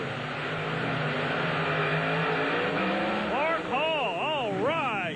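Monster truck engines roar together at a 1996 drag race in Springfield, Missouri, a loud sustained drone that ends in wavering, swooping revs, with voices heard over the engine noise.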